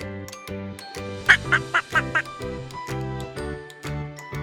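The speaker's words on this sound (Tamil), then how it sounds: "வாத்து" A rapid series of nasal quacks, about five in a row, over a repeating musical backing with steady low notes.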